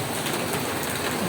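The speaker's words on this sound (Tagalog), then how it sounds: "Umulan na." The first rain of the year falls in Manila in the early morning, a dense, steady hiss of rainfall on surfaces. The sound is close and continuous, and no one speaks.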